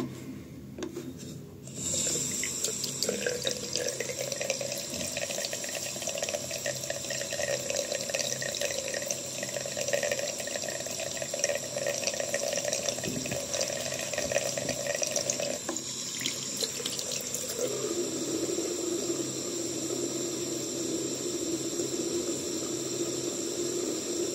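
Tap water runs steadily into a basin for a hairstyling routine, a continuous close hiss and splash that changes tone slightly partway through.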